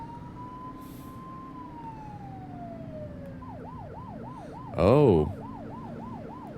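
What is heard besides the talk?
police car siren in a video game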